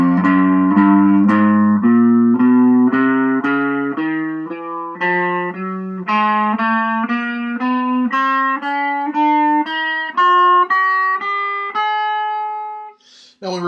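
Electric guitar playing a chromatic four-finger warm-up exercise across all six strings, evenly spaced single notes climbing steadily in pitch, played slowly and clearly with no talking over it.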